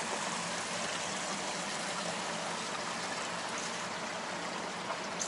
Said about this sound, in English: This is one of the jacuzzis.